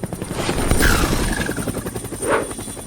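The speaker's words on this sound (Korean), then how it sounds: "헬리콥터의 프로펠러가 이 단단한 초콜릿을 아주 빨리 해결해 줄 거야." Helicopter rotor sound used to break hard chocolate in a kitchen challenge: a steady buzzing whir with a rising whoosh near the start and another swell toward the end, loud and close, no talking.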